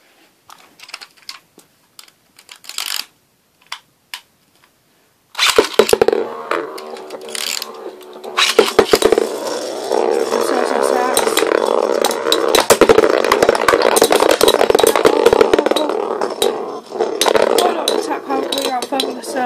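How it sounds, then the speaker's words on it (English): Two Beyblade spinning tops, Thermal Lacerta and Vulcan Hyperion, are launched after a few faint clicks and clatter in a plastic stadium, producing a long, loud, rattling grind of repeated collisions that lasts until near the end. "today we're going to be doing another Beyblade duel battle"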